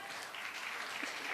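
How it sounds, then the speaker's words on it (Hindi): Applause from the audience at a Maheshwari Mahila Mandal cultural program for Mahesh Navmi: a dense, steady crowd clapping that stays even for the whole short stretch. "एक बार सभी अपने अपने लिए तालियां गड़गड़ा।"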